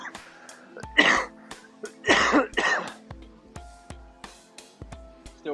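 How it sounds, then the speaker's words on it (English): Repeated coughing from a person recovering from illness with lingering congestion, several harsh bursts in a row up close, followed by quieter clicks and small sounds. "Still have a lingering cough and a lot of congestion."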